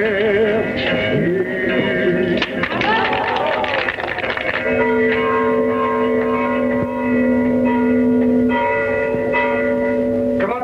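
Slightly cracked church carillon bells ring in a rapid, jangling cluster before settling into a sustained tone, with a voice speaking over them.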